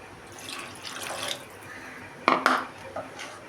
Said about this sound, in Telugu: ఇప్పుడు ఇందులో ఇంకొంచెం వాటర్ యాడ్ చేసుకుంటున్నా ఒక హాఫ్ కప్పు